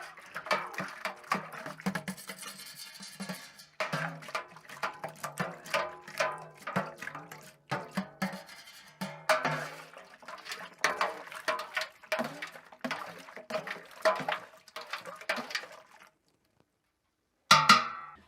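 A spoon stirring home-brew beer extract, clinking and sloshing in uneven bursts of scraping and liquid patter, fairly close, with a brief pause and a final knock at the end.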